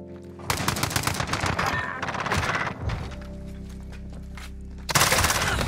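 Sykov pistol fire in a Call of Duty search and destroy match, a rapid string of sharp, close shots in bursts with a steady mechanical hum between them and another loud burst near the end.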